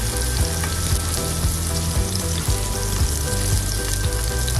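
A large burger patty sizzles loudly in a hot pan, with a steady, dense crackle of frying fat and faint low clatter, all without voices.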